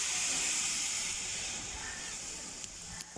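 Oil poured into a hot cooking pot gives a steady hiss and sizzle, strongest at the start and easing off, with a few faint clinks near the end.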